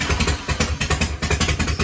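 A Harley-Davidson FXR motorcycle engine, started with no choke, idles close by in a loud, steady, lumpy pulsing rhythm.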